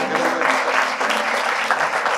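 Church congregation breaking into loud, sustained clapping in praise of Christ, a dense continuous wash with some voices faintly underneath.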